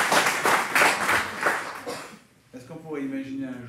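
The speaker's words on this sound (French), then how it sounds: "Vous pouvez l'applaudir." An audience applauds Michel, artisanal coffee roaster, with brisk clapping for about two seconds that stops abruptly, followed by a person talking.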